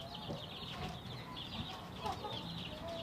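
Several roosters and hens cluck and murmur close by in a chicken yard during feeding, a steady busy chatter of fowl with soft overlapping calls and background rustle throughout.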